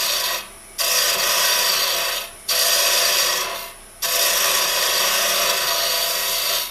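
Carbide woodturning tool plunging into spinning wood on a lathe to cut a cove, a loud rasping scrape in three long bursts separated by short pauses.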